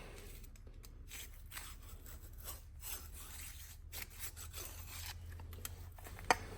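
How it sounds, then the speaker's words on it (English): A hacksaw blade scraping carbon deposits out of a piston ring groove on a Continental flathead piston, a quiet, uneven series of short rasping strokes heard close up with no voices. "I hold it to one side a little bit just so it scrapes in the corner"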